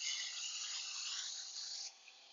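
A knife bevel is drawn across a wet dry sharpener in one steady, hissing rasp lasting about two seconds, quiet and close, then stopping abruptly.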